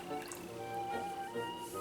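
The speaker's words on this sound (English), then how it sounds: "I'm just going to pour it in until we get down to a cup" Milk pours from a container into a measuring cup in a home kitchen, a soft, quiet trickle with small drips and splashes, heard close up.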